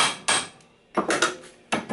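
Three loud, separate hammer blows strike a metal part on a 1985 Volkswagen Kombi, each a sharp ringing impact followed by a short decay, with quiet gaps between them.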